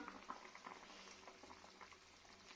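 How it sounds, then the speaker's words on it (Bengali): Fish curry sauce for a rohu, cauliflower and potato dish coming to a boil in a pan, a soft, steady bubbling and popping at low volume. "দেখুন ফুটতে স্টার্ট হয়ে গেছে।"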